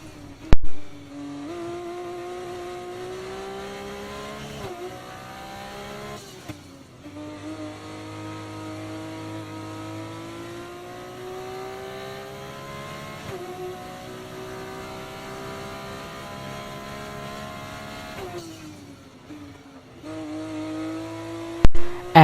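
A Formula 1 race car engine in F1 24 drones steadily at high revs, its pitch climbing through each gear and dropping at upshifts, heard close and alone without talk.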